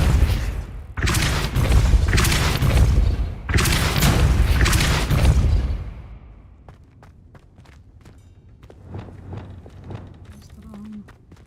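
Depulso spell casts in the Hogwarts Legacy video game, three loud booming magical blasts in quick succession followed by quieter scattered thuds and soft ambient clatter.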